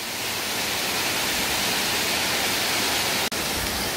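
Ungye Waterfall on Gamaksan mountain in Paju roars as a dense, steady rush of falling water, loud and close, with a brief dropout near the end and no voices.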